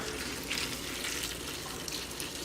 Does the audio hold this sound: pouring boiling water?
yes